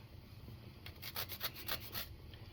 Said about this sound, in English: So I'm gonna finish grating this nutmeg